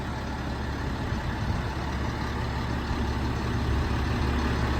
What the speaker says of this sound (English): Truck runs and drives as it should,